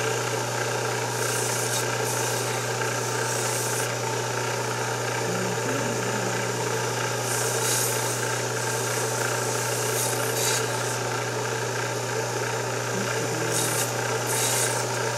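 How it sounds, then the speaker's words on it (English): Steady sanding rasps through cured epoxy on a knife handle from a handle kit, a continuous close abrasive scrubbing over a constant low machine hum. "As you're sanding through that epoxy."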